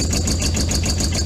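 An Arctic Cat 700 SD diesel ATV engine running steadily just after starting, a close, continuous low idle with a rattly, ticking texture and no voices.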